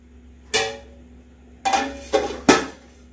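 Metal lid set over a pan of cooked potato pieces, with a single clank followed by three quick rattling knocks as it settles, close and alone in a quiet kitchen.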